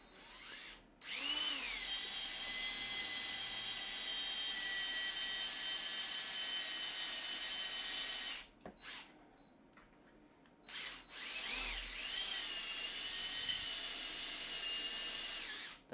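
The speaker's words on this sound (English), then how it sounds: "That noise is my drill bit getting extremely hot" A power drill with an overheating bit gives off a sustained, strained high whine, running about seven seconds, cutting out, then returning in a second, rougher burst with sharp tonal squeals. No voices.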